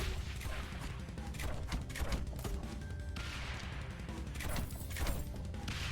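Mortar blasts and rattling gunfire from the video game Stone to Space ring out in a dense, continuous barrage of overlapping shots and crashes, loud and close throughout, with no talking.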